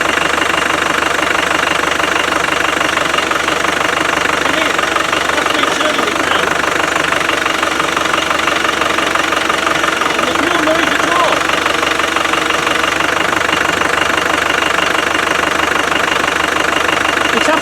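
A Land Rover Defender 300Tdi diesel engine with a failing power steering pump and a water leak runs steadily up close, a continuous even drone with a faint knocking texture throughout, and a voice may be heard over it.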